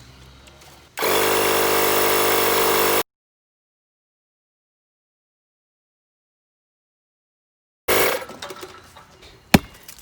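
A Harbor Freight Bauer portable battery tire inflator runs on a big truck tire with a loud, steady whine for about two seconds, then cuts out; after a silent gap, faint handling noises and a brief sharp knock follow.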